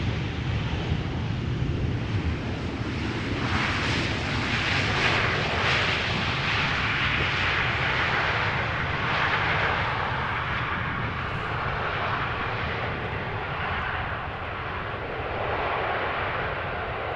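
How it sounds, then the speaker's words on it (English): A KLM Boeing 737-800 touches down at Amsterdam Schiphol, its engine roar loud and close, swelling in the middle and then easing slightly as it rolls out. "KLM flight 1822 arriving from Berlin. 737-800, touching down after an hour and 9 minutes of flight"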